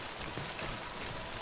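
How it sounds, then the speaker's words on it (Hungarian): Heavy rain pours steadily in the game Death Stranding, a dense, loud, continuous hiss of drops filling the scene without pause. "az eső korrodálja a csomagot is"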